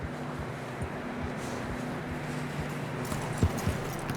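Horse hooves clip-clopping in Red Dead Redemption 2, a soft uneven plodding rhythm under steady wind-like noise, with a sharper knock near the end.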